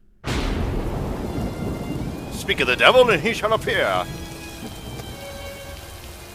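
Steady rain pouring with a rumble of thunder in an animated RWBY Volume 7 scene, a constant hiss from start to finish with a louder rolling burst in the middle, and a voice speaking over it.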